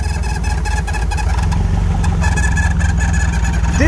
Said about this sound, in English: rev it back up.